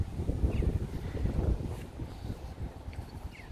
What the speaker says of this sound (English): It's humid and a bit windy